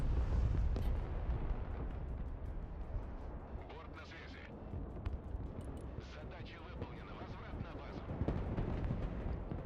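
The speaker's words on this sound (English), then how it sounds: "Artillery that with your big-ass mortars." Mortar artillery fire in a multiplayer video game battle, a continuous rumble of deep booming blasts and explosions running throughout, with voices talking over it.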